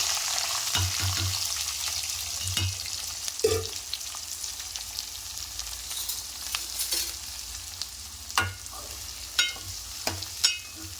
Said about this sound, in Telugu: ఆయిల్ వేడయ్యాక దాంట్లో మనం ఆనియను మిర్చి కట్ చేసుకున్నాం కదా చిన్నగా ఇవి దీంట్లో వేసేసుకుందాం